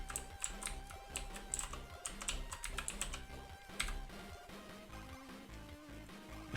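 Rapid, steady clicking of a computer keyboard being typed on, close and fairly quiet, with uneven bursts of keystrokes and no talking.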